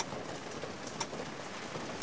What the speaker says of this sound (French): il regarde les grosses gouttes tomber du bord du toit et venir mourir sur les carreaux